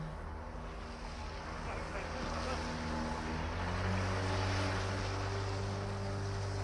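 Garda patrol boat motoring on the open sea off Connemara, Co. Galway, heading for an island: a steady, continuous engine drone with low harmonics over wind and water wash, near and constant throughout.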